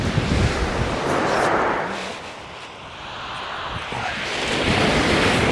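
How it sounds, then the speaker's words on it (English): Strong wind buffets the microphone on Chesil Beach in the UK while waves surge and break on the shingle, a loud continuous roar that swells and eases with no talk. "That wind's quite tasty."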